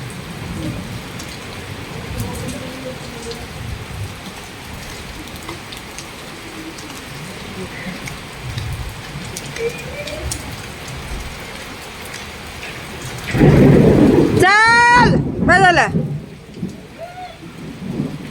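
Heavy rain pours steadily on a surface during a storm in Pune, with a loud close thunderclap cracking and rumbling near the end; faint birds chirp in the background and no one talks.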